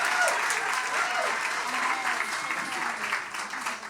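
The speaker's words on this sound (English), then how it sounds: "Can I hear the claps for Dave's hat?" Audience clapping for Dave's hat in a hat contest at an awards gala, a full steady round of applause with faint crowd voices mixed in, fading slightly at the end.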